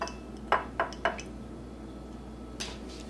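A spoon clinks a few times against a bowl while stirring a sugar scrub with fragrance oil, vitamin E oil and preservative. Three quick close taps come first, then one brighter clink after a pause, with no talking.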